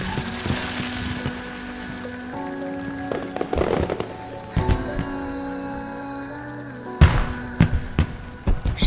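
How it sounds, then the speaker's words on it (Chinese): Fireworks burst in a few sharp, scattered pops and crackles, heard at moderate distance beneath a steady background of music. "快看烟花！"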